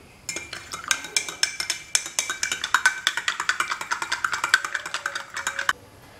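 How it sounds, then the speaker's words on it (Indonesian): A spoon stirring a glass of bandrek drink mixed with milk, a quick steady run of bright metallic clinks against the glass, close and clear with no talk, stopping abruptly. "lalu kita aduk"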